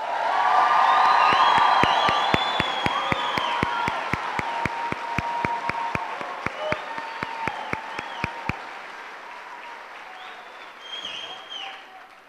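Spectators in the stands at a middle school 8th grade promotion ceremony applaud, whoop and cheer loudly, with sharp, regular claps standing out before the noise fades to scattered shouts.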